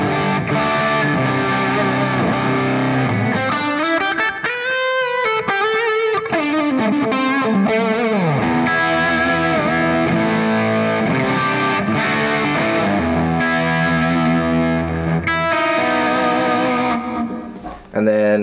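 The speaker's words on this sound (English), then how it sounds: "the crunch tone" Electric guitar through a NUX MG30 amp modeler with a crunchy, moderately distorted amp tone plays chords and riffs steadily for the whole stretch, with some delay and reverb trailing off.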